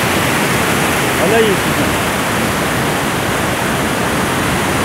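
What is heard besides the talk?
waterfall rushing water, Cachoeira da Chave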